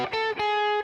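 Electric guitar with distortion running up a pentatonic scale, a few sustained, buzzy notes picked one after another, loud and close with no talking.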